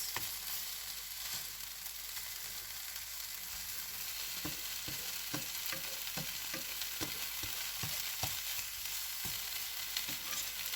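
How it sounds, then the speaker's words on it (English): Onion sizzling and frying in a pan for a sausage casserole, a continuous soft hiss broken by scattered scraping and stirring clicks, close by and fairly quiet, with no talking. "I like to get the onion out before it really starts crisping up"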